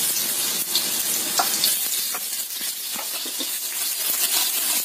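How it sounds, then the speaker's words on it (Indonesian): Hot oil sizzles and crackles steadily as garlic sautés in a pan, with occasional stirring scrapes, close and continuous with no talking. "Kita tumis dulu bawang putih sampai tercium bau enak."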